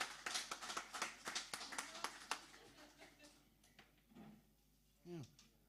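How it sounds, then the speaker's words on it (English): Applause for venue staff at a live music session: a burst of sharp, fairly close claps from a small audience that thins out and fades, followed by a few scattered claps, with a voice briefly speaking near the end. "I think they all deserve a huge round of applause"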